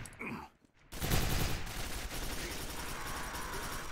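Turret gunfire in the video game Quake 4 comes as a dense, rapid burst after a brief pause, then keeps rattling steadily and loudly to the end.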